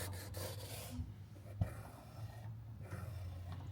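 The textured upper material of a Yeezy YS-01 or SL-02 sneaker, rough like a cheese grater with small notches, is rubbed right next to the microphone, producing a few soft, close scratchy strokes with one sharper knock.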